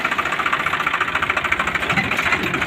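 A tractor engine idles close by with a steady, rapid chugging pulse, loud and continuous with no voices over it.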